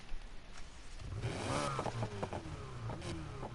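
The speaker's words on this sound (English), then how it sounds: "let me quickly do the exhaust sound." Porsche Panamera Turbo exhaust in Need for Speed Heat, a short engine rev swelling up after a quiet start, then a few quick throttle blips, fairly faint and alone.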